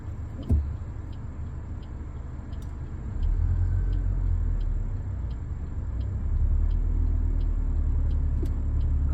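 An automatic car held on an uphill slope with the accelerator gives a steady, low engine rumble. The rumble swells a little partway through, with faint ticks and no talking.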